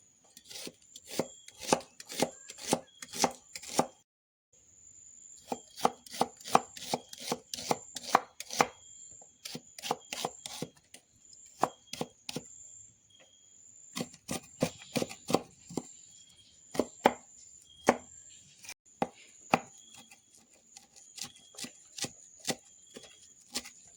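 Onion and coriander being chopped for a tempering, rapid crisp knife strokes on a cutting board in quick bursts of rhythmic taps, with a short pause early on, close and clear with no talking.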